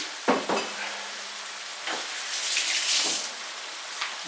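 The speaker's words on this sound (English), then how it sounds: "Now we need to start stirring that up and mixing it with it" Sauce being stirred and mixed in a pan on the stove, a soft continuous sizzle with scraping and clinking of a spoon against the pan, a few sharper knocks near the start.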